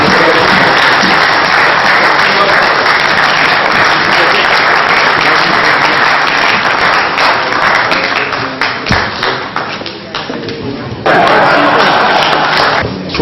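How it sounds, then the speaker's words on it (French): An assembly applauds loudly at a signing ceremony, dense crowd clapping that fills the space, briefly thinning and dipping near the tenth second before surging back strongly, with faint voices mixed in. "nous invitons l'Assemblée à applaudir très fort nos compatriotes"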